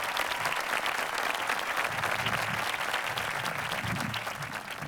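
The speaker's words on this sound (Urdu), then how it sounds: "آپ سب تالیاں بجا کے، بھرپور تالیاں بجا کے استقبال کیجیے۔" An audience applauds warmly to welcome a poet visiting from America at a live Urdu poetry mushaira in Dubai: dense, sustained clapping from a large crowd that holds steady throughout.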